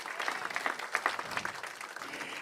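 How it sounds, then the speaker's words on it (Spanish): A church congregation at a Spanish-language worship service applauds steadily, a dense, even wash of clapping with no clear break. "dale fuerte ese aplauso de gratitud al Señor"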